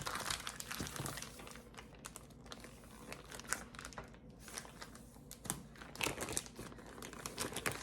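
A plastic freezer bag holding a crockpot meal is folded in half, producing continuous close crinkling and crackling of plastic with no talking.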